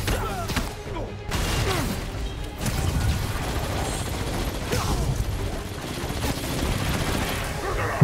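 A minigun fires in a video game with a dense, continuous roaring stream of rapid shots. It is loud and sustained, mixed with crashes and mechanical clatter.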